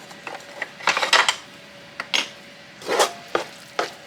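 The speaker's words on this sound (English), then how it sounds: "sorry about the scraping, I know that sounds terrible" A spoon scrapes and clinks in a bowl while meatloaf ingredients are mixed, coming in short, uneven bursts with brief pauses between, close and fairly clear with no talking.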